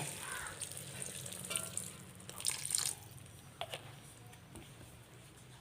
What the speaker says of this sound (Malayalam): ഇനി ഒരു കാൽ കപ്പ് വിനാഗിരി ഒഴിച്ചു കൊടുക്കുക